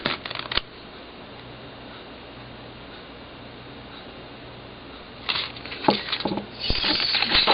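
Paper folded by hand for a gatefold mini album hinge, with brief crisp rustles and creases at the start and again near the end, separated by a quiet stretch.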